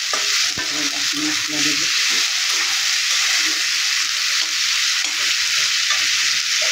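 Onion paste frying in a pan for a fish and taro stolon curry gives a loud, continuous sizzle, and a voice speaks briefly under it.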